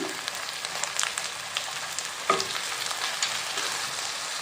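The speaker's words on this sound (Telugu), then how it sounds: "పసుపు వేసి కలుపుతూ ఫ్రై చేసుకోవాలి" Ivy gourd (dondakaya) fries with turmeric in a pan, giving a steady broadband sizzle that runs the whole stretch, with light scrapes and stirring knocks on top, including one sharper clack partway through.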